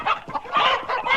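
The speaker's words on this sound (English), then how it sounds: "chickens?" Chickens clucking in an Arthur cartoon, a quick burst of several close, busy clucks with no talk over them.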